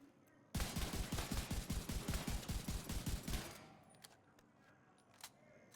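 Rapid automatic rifle fire in The Division 2 shooter game, a loud burst of about fifteen evenly spaced shots lasting three seconds, then fading echoes and faint clicks.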